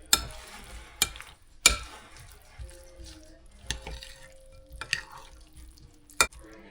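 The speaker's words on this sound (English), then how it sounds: "Now let's mix all this together." Chicken pie filling, including canned soup, is mixed in a bowl, with soft wet stirring broken by several sharp clanks of a utensil knocking the bowl's rim.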